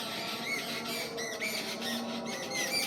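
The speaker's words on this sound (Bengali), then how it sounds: "আর যেটা সবথেকে প্রিয় জিনিস সেটা হচ্ছে এই পাখিদের আওয়াজ।" Birds call around a rooftop terrace garden at evening, with repeated short, bright chirps and squawks over a steady, dense chorus of birdsong that fills the background throughout.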